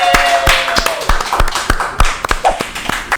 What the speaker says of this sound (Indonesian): Tepuk tangan guys.